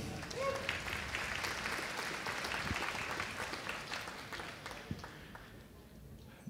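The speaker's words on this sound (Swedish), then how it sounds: "En stor applåd för vår pianist Rickard Mitz" A room of guests at a 60th birthday party applauds the pianist, a dense and steady round of clapping that slowly tapers toward the end.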